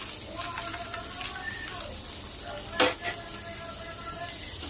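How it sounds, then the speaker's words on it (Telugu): Onions frying in oil with a steady close sizzle, one sharp clink of a utensil midway, and faint background voices or tones over the frying. "ఆనియన్స్ ఫ్రై అవుతున్నాయి"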